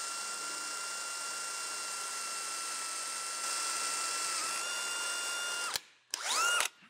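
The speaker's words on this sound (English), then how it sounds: "Looks like I'm drilling some cast iron too," A power drill whines steadily at high pitch as it bores through cast iron on a bandsaw, then stops and restarts in a couple of short bursts near the end.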